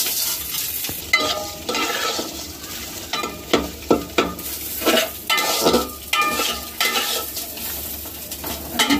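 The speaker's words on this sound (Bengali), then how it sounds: "এর সাথে আমি চালগুলোকে ভাজবো" Basmati rice fried and stirred in a pan for pulao, a steady sizzle broken by repeated scraping strokes of a metal spoon against the pan.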